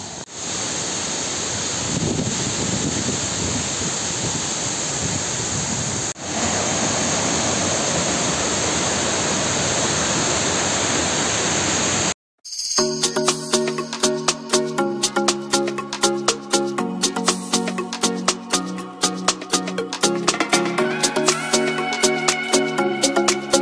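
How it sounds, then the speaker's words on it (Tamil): A waterfall at Kanthalloor in Kerala, its heavy flow making a loud, steady, broad rushing roar close by that lasts about twelve seconds before abruptly cutting to music. "ஆனால் இங்கே செம்ம தண்ணி வருது, பயங்கர தண்ணி இருக்குது."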